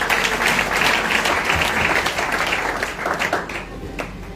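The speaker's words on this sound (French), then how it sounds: "Acclamons pour le Seigneur Jésus-Christ." A church congregation applauds together in a sustained burst of dense clapping that fills the room, then thins slightly toward the end, with a few voices mixed in.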